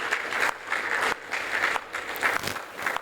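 An audience at a career fair applauds steadily, many hands clapping in a dense continuous patter that swells and dips slightly in waves.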